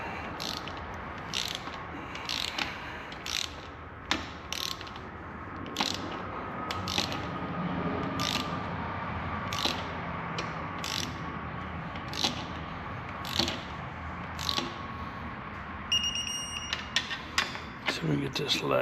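Socket wrench ratcheting on bolts while rebuilding a Ford 3.5 EcoBoost engine, with exhaust manifolds and turbos; steady rapid clicking bursts repeat close up throughout, with brief pauses and someone talking at times.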